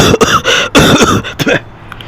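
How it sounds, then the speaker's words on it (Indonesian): A voice acts out a character coughing and spitting on the ground: three or four harsh, close coughs in quick succession, then a short sputtering exhale as the sound trails off. "Lagandring batuk-batuk lalu meludah ke tanah."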